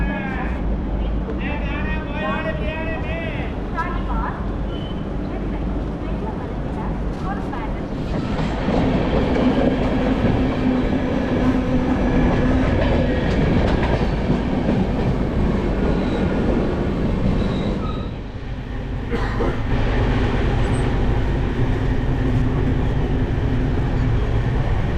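Bangalore–Bhubaneswar Humsafar Express train running through a station, with a steady loud rumble of rail cars and brief clattering, while someone talks over it.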